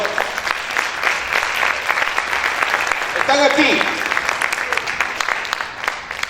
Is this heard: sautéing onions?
no